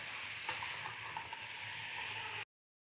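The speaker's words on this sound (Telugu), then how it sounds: "ఉప్పు పసుపు వేసుకొని ముక్కల్ని వేపుకోండి" Chicken pieces coated with salt and turmeric sizzle steadily in a hot pan for chicken curry, with a continuous broadband frying hiss and a few soft stirring clicks, close and even, ending abruptly with no talking.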